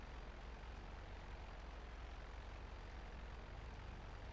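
An airplane engine drones steadily in flight in GTA, a constant low hum at an even level throughout, with no speech.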